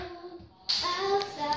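Small audience clapping after a song, a sudden burst of applause that starts partway through and holds steady at moderate volume, with a voice faintly audible beneath.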